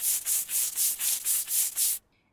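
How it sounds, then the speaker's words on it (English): A spot is scrubbed with soap in seven quick, rhythmic back-and-forth strokes, each a close, bright brushing swish, then the scrubbing stops and it falls quiet. "Just gotta give this spot a little more of a scrub."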